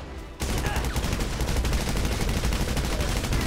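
Gunfire in the video game GTA Online, with a dense, sustained rattle of automatic shots that starts abruptly after a brief quiet moment and keeps going loud and close without a break.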